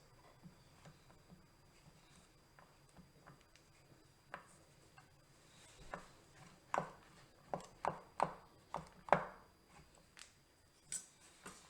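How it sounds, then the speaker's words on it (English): A knife chopping Balderson smoked cheddar cheese into little pieces on a board, a run of quiet, sharp, close taps that starts sparse and grows into a quicker, irregular cluster of cuts. "I'm just going to cut mine into little pieces"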